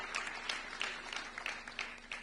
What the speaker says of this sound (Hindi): तो एक बार जोरदार तालियां विनोद जी के लिए